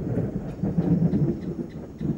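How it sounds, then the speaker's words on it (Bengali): Thunder rolls in a low, continuous rumble across the sky before a storm, moderately loud and heard on its own. "আকাশে মেঘ ডাকছে"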